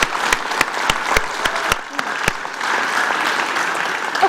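An audience at a livestock-protection talk claps for the volunteers, a loud, close burst of applause with several sharp, distinct claps punctuating the dense clatter, continuing steadily for over four seconds.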